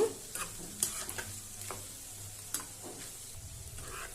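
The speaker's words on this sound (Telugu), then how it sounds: "చూసారా ఈ ఎగ్ ముగ్గులు ఎలా వేగుతున్నాయో" Egg pieces frying in hot oil for an Andhra-style egg pickle give a steady soft sizzle with a few sharp crackles and spatters scattered through, close and fairly quiet, with no voices.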